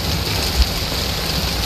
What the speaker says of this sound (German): Oh, das regnet aber.